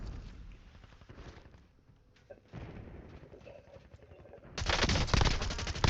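Grenade blast and automatic gunfire in a military shooter game: rattling bursts of shots run throughout, then a loud, sustained crash of explosion and heavy fire swells up near the end.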